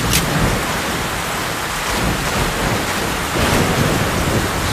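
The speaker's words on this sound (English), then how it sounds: "So wait out these storms." A thunderstorm in Metro Last Light, with heavy rain hissing steadily and low rumbles of thunder rolling underneath, a dense, constant wash of storm noise without speech.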